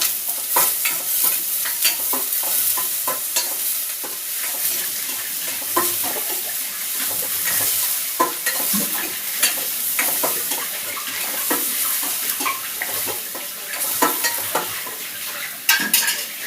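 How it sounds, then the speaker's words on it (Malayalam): Chopped onion, chili and garlic sizzle and crackle steadily in a hot pan while a utensil stirs and scrapes through it, up close and continuous, with no voices. "അപ്പം നമുക്ക് ചട്ടി ചൂടായിട്ടുണ്ട്, അതിലോട്ട് ഇട്ട് കൊടുക്കാം കേട്ടോ."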